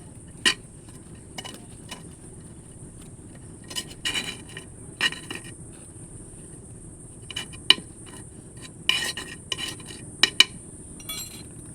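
The back of a spoon scraping and loosening soft, rain-dampened soil around the base of a bougainvillea plant, a series of short, scattered scratchy rasps and faint clinks, close and quiet with no talking.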